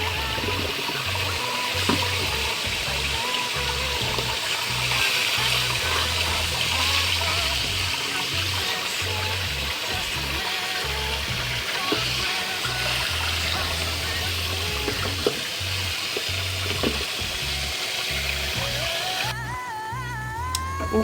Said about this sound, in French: vous prenez votre riz, vous venez le laver.